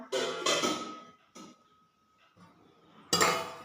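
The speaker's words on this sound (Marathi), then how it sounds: "मी इथे एक ताट घेतलेला आहे चाकू आणत आहे" A steel plate and knife are handled in a home kitchen during breakfast prep, giving a few close, short clattering bursts with quiet gaps between.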